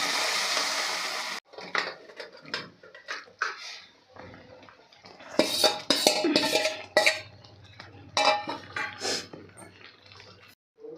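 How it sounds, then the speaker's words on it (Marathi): Cooked chicken is tipped into a kadai with masala and stirred, giving irregular close scrapes, clinks and soft sizzling bursts, while a voice talks at intervals. "इथे सगळं चिकन आपण हे कढईमध्ये घालून घेतलेलं आणि मिक्स केलेलं आहे"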